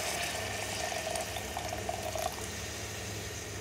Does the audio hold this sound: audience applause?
no